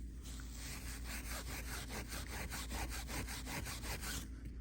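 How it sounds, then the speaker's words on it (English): Steel wool scrubbing rust off a DRZ400 motorcycle wheel, a fast, rhythmic back-and-forth rasping of about a dozen strokes, close and continuous with no talking. "take the steel wool and then go around the whole freaking wheel"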